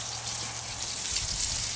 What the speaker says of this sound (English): I like to water the floor down for these big trees while I'm at it.